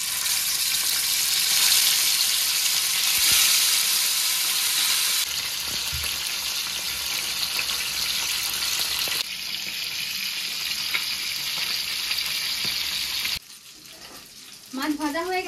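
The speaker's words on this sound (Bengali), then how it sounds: "আগে মাছগুলোকে ভালো মতো ভেজে নেব।" Pieces of Bhola fish rubbed with salt and turmeric fry in hot oil, giving a loud, steady close sizzle with a few stirring knocks and short gaps, and a brief clatter near the end.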